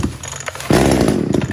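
A Makita MEA333T 33cc top-handle chainsaw coughs into life after a pull, a short sputter then a sudden loud burst of running engine close to the microphone.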